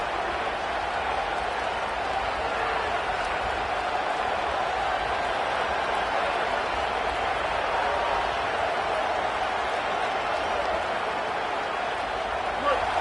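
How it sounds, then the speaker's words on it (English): Football stadium crowd roaring on a fourth-down play, a dense, steady wall of cheering and noise that holds loud and constant throughout without letting up. "Fourth down, and this crowd is making it miserable on this offense."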